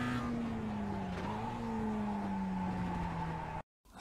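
A Mazda MX-5 braking into a corner on the Okayama circuit in iRacing, the engine note falling steadily as it slows, with faint tyre scrub under it and a brief cut to silence near the end.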